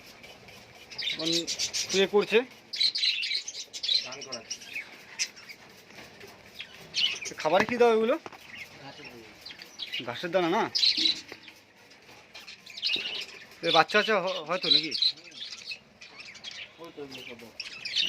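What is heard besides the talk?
Giribaz pigeons calling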